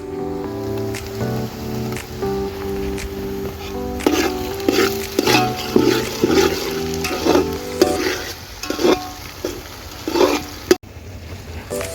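Tomatoes dropped into a pan of frying poha and stirred, giving a steady sizzle with repeated scraping and squishy stirring strokes over about twelve seconds, close and fairly loud, with no talking.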